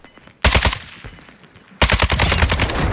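Automatic gunfire from Call of Duty: Warzone: two loud, close bursts of rapid machine-gun fire with a short gap between them, the second burst running to the end, with no talking.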